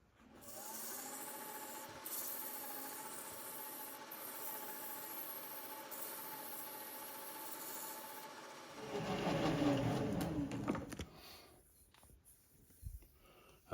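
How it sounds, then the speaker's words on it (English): Sandpaper rubs steadily against the edge of a hit-and-miss engine flywheel part in a workshop, a soft continuous rasping that grows louder and rougher for a moment near the end, with no voices. "and now I'll just hit it with the sandpaper."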